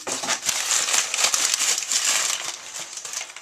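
Japanese paper packing crinkled and crumpled by hand while unboxing an Ultraman figure, a close, continuous rustling with sharp crackles and scattered louder crunches throughout.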